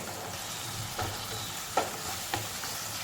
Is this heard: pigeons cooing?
no